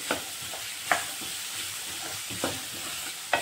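Onions frying in a pan for chole masala curry give a continuous close sizzle, broken by several sharp clicks of stirring at irregular intervals, with no voices.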